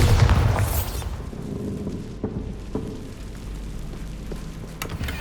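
A Bombarda blast spell from the Hogwarts Legacy video game, played on PS5 Pro: one heavy booming explosion at the start, followed by a rumbling tail, a few sharp pops, and a low ambient wash.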